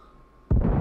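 A grenade goes off in a video game, a single loud blast that bursts in abruptly after a quiet lull and rumbles on heavily to the end.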